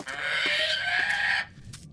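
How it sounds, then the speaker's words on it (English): A little caged bird in the Lord of the Rings Gollum video game gives a continuous bright chirping run for about a second and a half, then stops, leaving a few faint chirps after. "Say hello to your Little bird."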